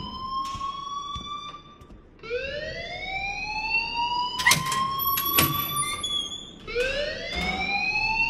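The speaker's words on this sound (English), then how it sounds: "please turn off that alarm since that's your job" A fire alarm in the game Life is Strange wails as a rising, whooping electronic tone that repeats several times. It is loud and near, with sharp clicks and bangs between the sweeps, and no voices.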